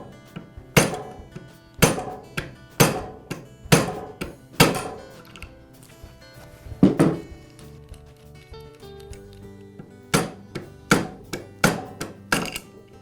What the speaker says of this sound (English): Now I'll use a rubber mallet to strike the end of the armature and tap the armature away from the bearing